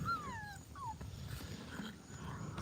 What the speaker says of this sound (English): Didn't give the whiny puppy any attention